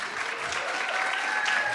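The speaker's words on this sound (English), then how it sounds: "can we please show our love and appreciation with a round of applause?" An audience at a book awards ceremony claps steadily, a dense even wash of applause throughout the short stretch with no clear voices.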